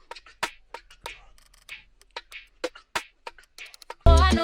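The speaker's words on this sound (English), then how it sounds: "I found this nice whisper loop, top loop, that sounds like this" A whispered top loop from a sample pack plays as rhythmic breathy whisper bursts with crisp percussive hits, ending in a sudden louder, dense music passage.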